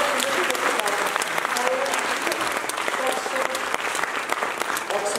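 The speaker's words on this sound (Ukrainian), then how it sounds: "Оплески!" Audience applause fills a music school concert hall, steady dense clapping from many hands throughout, loud and close, with some voices mixed in.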